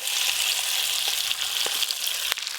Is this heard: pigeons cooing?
no